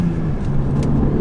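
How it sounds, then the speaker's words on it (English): A Renault Megane RS engine holds a high, steady drone near its rev limiter, loud and close with a constant buzzing tone and no speech. "it's got a little light flashing as you hit the rev limiter there. I don't know if you must have heard it."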